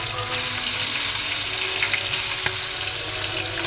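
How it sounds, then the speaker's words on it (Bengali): Small hilsa carrying roe fries in a pan with onions, giving a steady, close, hissing sizzle that runs evenly throughout with no one talking. "একটু ফিশটা ফ্রাই হচ্ছে"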